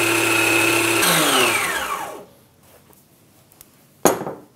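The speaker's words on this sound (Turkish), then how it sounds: "Karıştırma esnasında ayçiçek yağını içerisine yavaş yavaş koymalısınız." A mixer whips homemade mayonnaise as sunflower oil goes in, with a loud steady whir that sinks in pitch and winds down to quiet, followed by a sharp clink of utensils near the end.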